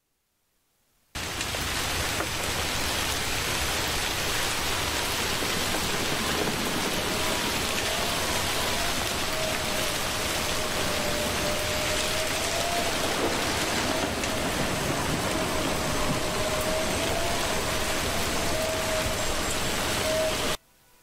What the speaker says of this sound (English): The rain is by far my favorite